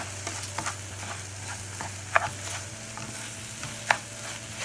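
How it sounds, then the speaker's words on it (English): Long-grain rice frying in oil with vegetables for Mexican rice, a soft steady sizzle with occasional scraping stirs and a couple of sharp clinks, close and fairly quiet. "Okay, let it fry"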